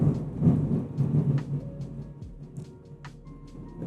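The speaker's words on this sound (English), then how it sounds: "It's thundering outside." Thunder rolls outside during a rainstorm, a low rumble swelling over the first couple of seconds and then fading, with faint rain patter behind it.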